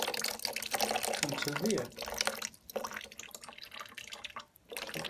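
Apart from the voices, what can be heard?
water draining through a siphon straw from PC watercooling reservoir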